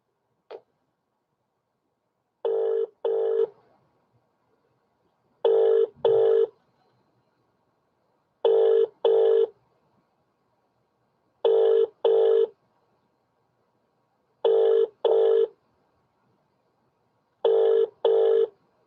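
An outgoing phone call rings unanswered, its ringback tone sounding as evenly spaced double rings, about seven pairs, clear and alone against silence.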